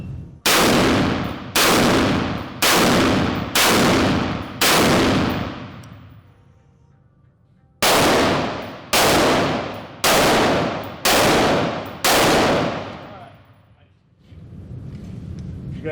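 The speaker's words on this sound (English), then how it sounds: "Take your time and fire 5 rounds." A carbine rifle fires at a target on an outdoor range, two groups of five loud, evenly spaced shots with ringing decay, a pause between the groups, and faint talk in the background.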